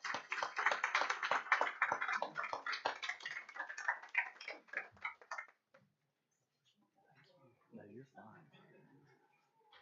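Audience at a board of education meeting clapping, a dense round of applause for several seconds that stops abruptly, followed by quiet room sounds and a few murmured words.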